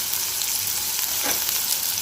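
Steady, hissing sizzle of onions frying in hot oil, close and continuous, with a faint stir partway through and no voices.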